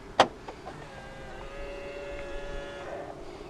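A sharp click opens the clip, followed by a brief whirring motor hum from the door locks of a 2019 Opel Grandland X, quiet and close.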